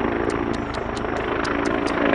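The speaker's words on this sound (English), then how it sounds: "Wait for the helicopter to go by." A helicopter passes by, its steady rotor thrum and engine drone filling the background with a continuous rhythmic chop, fairly loud and without speech.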